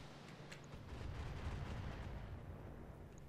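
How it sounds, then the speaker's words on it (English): Volleys of rockets launched from mechs in BattleTech, a low, rumbling rush of many launches and distant impacts blending into a continuous faint roar, with no one talking. "Let's just dump a bunch of rockets on this."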